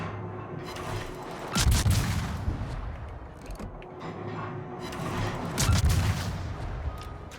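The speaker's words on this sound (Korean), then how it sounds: "또 이거 4연장포라고 발사 소리도 살짝 다르네" Quadruple-turret naval guns firing in the World of Warships video game, two heavy rumbling booms several seconds apart over a continuous loud roar of battle noise.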